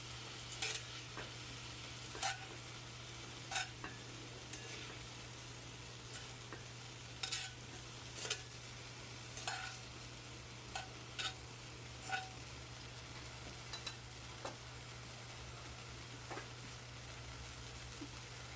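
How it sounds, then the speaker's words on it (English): Lamb browning in a cast iron tagine, a faint, steady sizzle with a low hum beneath and regular sharp clicks of stirring or turning the meat every second or two. "So once the lamb's brown all over, I'm just going to remove it from the tagine."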